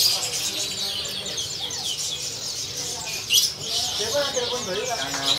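Canaries chirping at a bird kiosk, with dense high twittering and calls from many birds running throughout alongside a faint mixed background.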